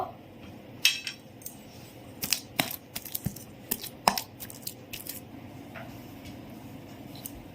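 Wood apple pulp being pounded in a bowl with coriander leaves and green chilli makes irregular sharp knocks and thuds, clustered in bursts and then thinning out, close and fairly quiet, with no talking.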